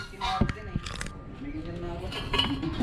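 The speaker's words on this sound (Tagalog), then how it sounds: "Kawaling may takip." A rusty stainless frying pan with a lid, pulled from a dumpster, clanks and clinks in handling up close, with a few sharp metallic knocks while people talk over it.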